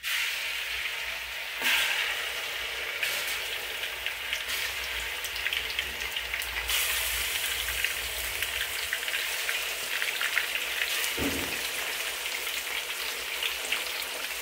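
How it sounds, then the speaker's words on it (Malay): Half a chicken, seasoned with turmeric and salt, frying in hot oil in a home kitchen: a steady, loud hiss and crackle of bubbling oil with occasional sharper spits, and no talking. "Kita akan goreng ayam ni."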